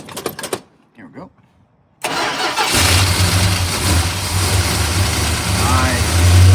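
A Dodge Charger with a carbureted engine cranks briefly and catches, then settles into a loud, deep, rumbling idle that holds steady and swells slightly at the end, preceded by a few seconds of talking.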